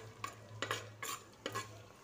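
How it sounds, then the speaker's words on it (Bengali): Raisins stirred into fried rice in a clay pot from Rajasthan, four quick scraping strokes in an uneven rhythm over a faint background hum, close and quiet. "কিশমিশটা আবার একটু নাড়াচাড়া করব"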